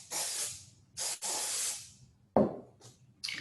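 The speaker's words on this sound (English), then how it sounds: "So I've shaken the can up, and what I'm going to do is spray it into all the nooks and crannies there." Several bursts of mold release agent sprayed from a shaken aerosol can into the nooks of a mold, near and loud hissing puffs separated by short pauses, with a sharp clunk midway.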